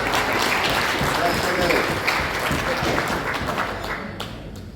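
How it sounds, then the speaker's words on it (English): Audience clapping at a gala dinner, a dense steady wash of applause lasting throughout with voices mixed in underneath, gradually thinning toward the end. "We all clap."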